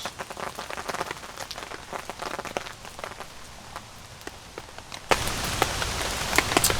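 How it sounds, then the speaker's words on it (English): Rain drums on a camping tarp in irregular, close taps and heavier drops, turning into a denser, louder patter partway through. "when you're sleeping in the rain in a tent or a tarp, and the sounds of it"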